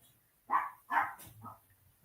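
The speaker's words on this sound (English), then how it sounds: "Can you guys hear my little dog going nuts?" A small Chihuahua barks excitedly, giving three quick yappy barks in close succession at moderate volume, with a quiet indoor background.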